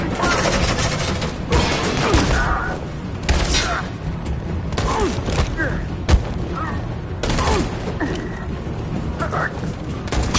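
Gunfire and action sounds in the Detroit: Become Human video game, bursts of shots and crashes over a dense, busy background, with voices shouting in the scene.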